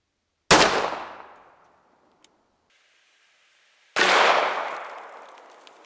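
A 1911 pistol fires .45 ACP rounds into bulletproof glass: two loud, sharp shots a few seconds apart, each with a long ringing decay, and no voices.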